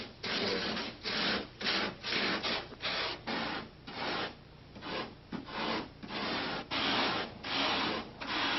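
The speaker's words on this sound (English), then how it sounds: "Greg has model maker Mike Hosh carve the rough structures of the canyon cliffs out of 8-foot pieces of foam" Light polyurethane foam being carved into rough canyon cliff shapes from large 8-foot slabs for a movie miniature, giving steady repeated rasping, rubbing strokes in a close, even rhythm with no talking.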